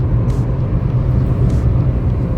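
A 2012 Nissan Almera driving along, heard from inside the cabin as a loud, steady low road and engine rumble with a couple of faint brief hisses on top.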